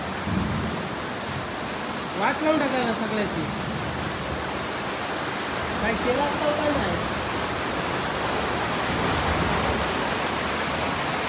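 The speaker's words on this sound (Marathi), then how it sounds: "कोकणात मुसळधार पावसाची सुरुवात झाली" Heavy rain pours down in the Konkan, a dense, even hiss that fills the whole stretch, with a voice speaking briefly beneath it.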